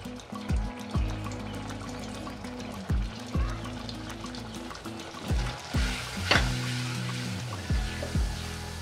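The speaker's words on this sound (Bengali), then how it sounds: "আমি অলরেডি তেল বসিয়ে রেখেছি, এখন দিয়ে দেব মশলাগুলো। দিয়ে দিচ্ছি গুঁড়ো মশলা," Ground spices dropped into hot oil for a Bangladeshi kolija shingara filling, frying with a steady close sizzle broken by repeated stirring knocks and scrapes, the hiss swelling partway through.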